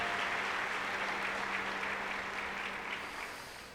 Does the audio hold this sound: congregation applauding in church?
yes